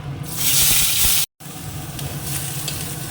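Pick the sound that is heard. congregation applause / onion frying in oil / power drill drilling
onion frying in oil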